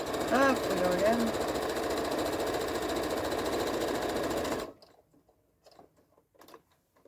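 A sewing machine stitches a mini tote bag in a fast, steady mechanical chatter that stops abruptly partway, with a person speaking over the running and a few quiet handling sounds after.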